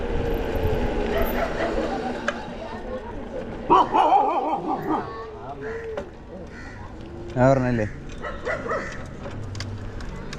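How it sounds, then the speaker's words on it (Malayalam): Several dogs bark and yip intermittently nearby at a forest checkpoint on the descent from Kodaikanal, with a couple of sharp outbursts, while people talk over a steady background hum. "അവിടെ കുറേ പട്ടികളുണ്ട്"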